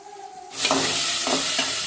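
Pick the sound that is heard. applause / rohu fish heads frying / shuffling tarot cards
rohu fish heads frying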